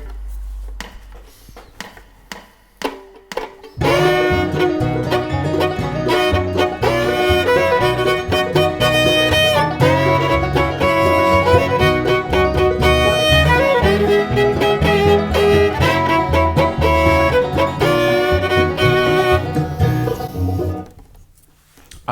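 Fiddle bowing harmonized double stops through a chord progression in B, moving between the one, four and five chords, with a steady, full sustained tone after a few brief plucks and taps, loud and close with no talking.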